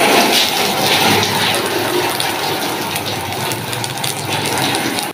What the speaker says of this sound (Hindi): अब धो लें हम गेट